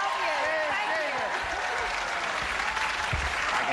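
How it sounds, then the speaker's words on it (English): A TV game show studio audience applauds loudly, a dense, continuous wash of clapping with voices faintly mixed in. "Just hear the cast of Another World applauding you loudly."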